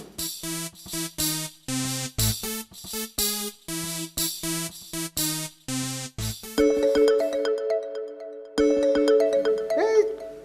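A phone ringtone plays a bright, repeating melodic pattern of short electronic notes, then shifts into a sustained tone with jingling accents. It is loud and close, with no talk over it.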